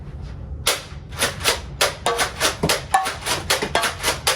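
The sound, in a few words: Nerf Vortex Praxis blaster shooting discs at targets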